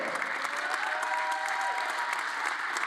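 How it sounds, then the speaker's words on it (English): Standing crowd applauding at the close of a 10m air pistol mixed team shooting final, steady dense clapping filling the hall throughout, with a faint murmur of voices underneath. "Everyone is stood applauding that wonderful final."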